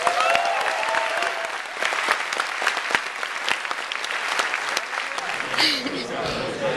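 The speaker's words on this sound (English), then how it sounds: "will you guys just give me personally a huge round of applause, please?" A studio audience bursts into a big round of applause during a sound check on a tech show stage, dense clapping with sharp individual claps standing out before it tapers off as a voice begins.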